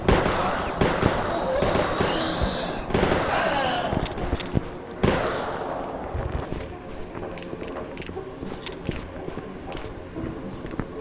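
Repeated sharp gunshots sound in the Ottoman gendarme game Zaptiye Osmanlı during a fight with bandits, irregular cracks that are loud at first and then thin out over a steady background.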